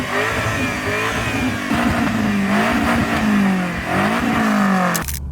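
Lamborghini Urus engine revved repeatedly, loud and close, the deep exhaust note climbing and falling in several rising surges before cutting off abruptly.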